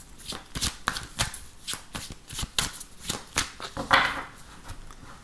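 Oracle cards for a tarot reading are shuffled by hand in quick, close, papery riffles, with crisp slaps and flutters repeating steadily for several seconds and no talking.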